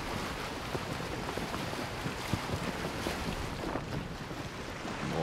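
Boat gliding across open water in Assassin's Creed Origins, a steady broadband wash of water and wind noise with small splashes, continuous and fairly close, no talking.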